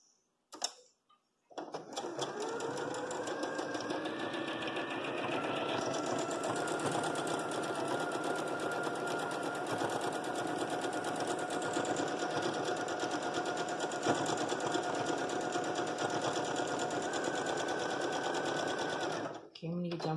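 A sewing machine stitching the seams of an X-string quilt block runs in one long steady whir with a rapid ticking stitch rhythm for about eighteen seconds. It starts after a brief quiet moment and stops abruptly at the end.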